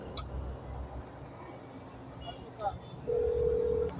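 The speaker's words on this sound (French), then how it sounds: "Je rappelle maintenant. Ça sonne la famille." A phone call-back gives a steady electronic ringing tone over a faint rumbling background near the end, after a few soft clicks and muffled noises.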